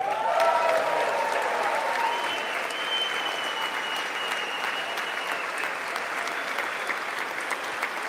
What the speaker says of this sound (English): that's something we can clap about together